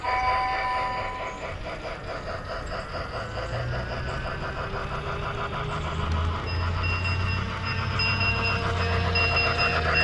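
A Lionel toy locomotive from a Christmas Story train set runs around track with curves. It gives a steady close mechanical whir and rhythmic clatter of wheels on rails, without pause, and nobody talks.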